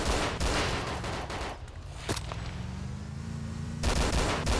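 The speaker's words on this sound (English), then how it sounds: "Shoot out the wheels." Loud, dense gunfire rattles in bursts during a firefight in the video game DayZ Breaking Point. It is an attack on a Humvee, with an engine droning beneath the shots and no voices.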